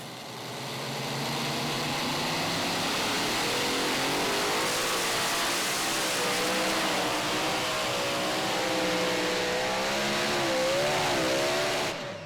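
A super modified pulling tractor engine roars continuously and loudly at a tractor pull in Saluda, SC, its pitch rising and wavering as it revs hard under heavy load.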